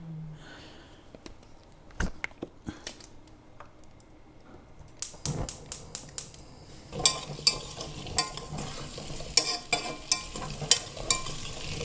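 Potatoes stir-fried in a pan, with soft sizzling and irregular clacks and scrapes of a utensil against the pan, louder and busier toward the end.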